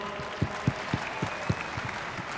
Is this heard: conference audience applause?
yes